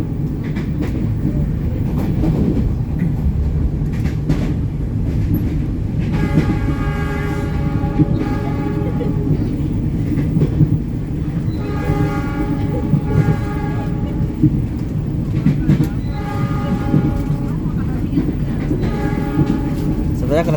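The Cikuray passenger train, hauled by a CC 206 locomotive, rolls along normal double track with a constant loud rumble and rail noise heard from inside the carriage, plus intermittent tonal horn-like hums.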